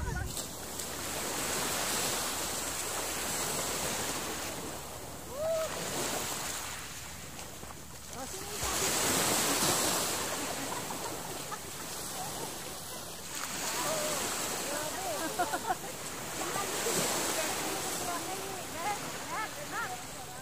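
Sea waves wash steadily onto a beach in Mindoro Occidental, a continuous rushing surf with periodic swells under light wind, with people talking faintly in the background.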